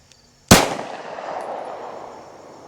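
A single sharp gunshot from a P80 pistol with a 4.25-inch barrel firing 9mm copper hollow point ammunition, loud and close, followed by a long decaying echo outdoors.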